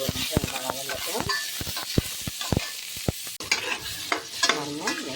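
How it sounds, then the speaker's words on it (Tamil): Onions sautéing in hot oil with mustard seeds for a capsicum potato gravy, rapid loud scrapes and knocks of a spatula over a bubbling sizzle, close to the listener, no voices. "அடுத்ததான் நம்ம ஆனியன் கட் பண்ணி வச்சுருக்கோம்ல, அதை சேர்த்து நல்லா வதக்கிக்கலாங்க."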